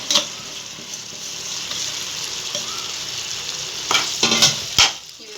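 Fried soya chunks being stirred into a sizzling masala gravy in a pan, a steady bright frying hiss broken by a few louder scraping stirs near the end, with no talking.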